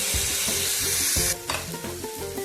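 Tomatoes fry in a hot pan for spicy eggplant bharta, giving a loud, steady close-up sizzle with stirring scrapes partway through.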